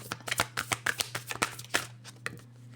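Tarot cards being shuffled close by, a quick series of papery riffles and taps that fades out near the end, with no talking.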